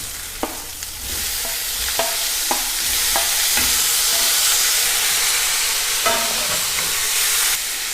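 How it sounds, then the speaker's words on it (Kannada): Tomato fries and is stirred in a pan, with a continuous sizzle and hiss broken by repeated scraping strokes of a spoon at an uneven rhythm, close and fairly loud, with no talking. "ಫ್ರೈ ಆದಮೇಲೆ ಟೊಮೆಟೊ ಹಾಕ್ಕೊಳ್ಳೋಣ."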